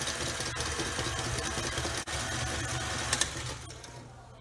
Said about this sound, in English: And we'll go ahead and turn the mixer back on.